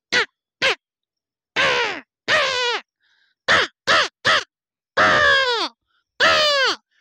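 A voice imitates a crow, giving a run of harsh caws in separate bursts, some short and clipped, others longer and drawn out, loud and close with short silent gaps between them.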